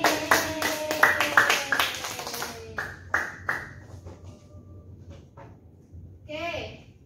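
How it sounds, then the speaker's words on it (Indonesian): Classroom applause from students during a chemistry lesson, several quick bursts of clapping at the start that thin out into scattered claps, with a voice briefly audible near the end. "beri tepuk tangan untuk Putri."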